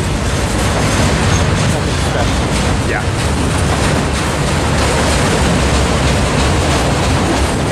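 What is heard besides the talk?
freight train passing, BNSF or UP, Tehachapi Pass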